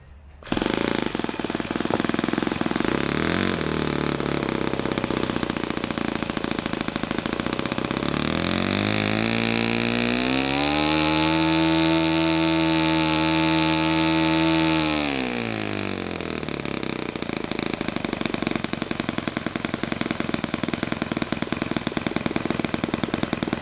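A Saito 80 four-stroke model airplane engine on a bench stand, running loud and close with a harsh rapid bark that drops to a smoother lower idle midway before revving back up.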